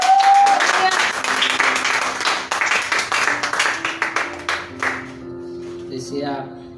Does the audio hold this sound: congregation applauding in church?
yes